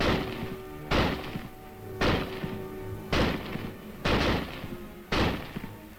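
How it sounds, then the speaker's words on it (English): A Springfield rifle firing from an 8-round clip, six loud, sharp reports spaced about a second apart, each with a booming decay, no talking. "Simply insert another clip of 8 rounds and commence firing."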